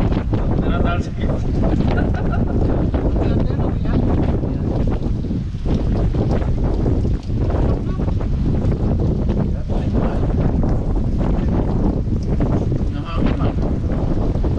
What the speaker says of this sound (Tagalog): Malakas yung hangin. Nanatalsik.